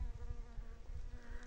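Soft, steady buzzing of bees gathering pollen from crocus flowers, low and close, droning continuously without pause.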